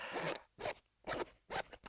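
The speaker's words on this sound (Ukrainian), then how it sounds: "Так, ось тепер вона розтібнута." A zipper on a small pocket of a knife accessory bag being unzipped, heard as four short rasping pulls, close and quiet, with no voices.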